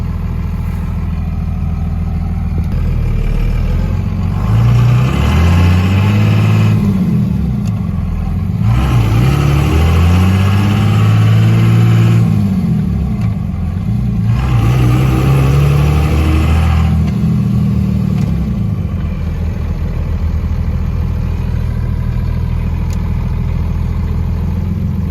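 A 2nd-generation Cummins diesel truck engine idles steadily and close by, its deep exhaust rumble swelling three times in brief revs before settling back to a low idle.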